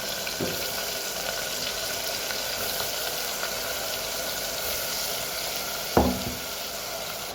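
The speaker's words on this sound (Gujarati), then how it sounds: "હવે આપણે ડુંગળી અને બટાકા એડ કરીએ." Onions and potatoes fry in a pan with a steady, close sizzle throughout. A single utensil knock sounds near the end. No one speaks.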